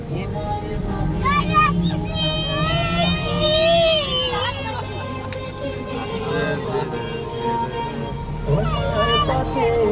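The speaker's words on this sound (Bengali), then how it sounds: "বাচ্চারা তো কত খুশি সেটা আপনারা কিন্তু শুনতেই পেলেন" Excited children shout and squeal near a park gate after arriving by car, their high voices rising and falling over a low vehicle hum, mixed with adult talk.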